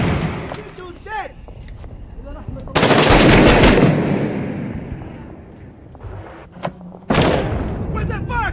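Heavy automatic gunfire in the Six Days in Fallujah video game, long sustained bursts of machine-gun fire and booms, loud and close, with shouted talk between the volleys.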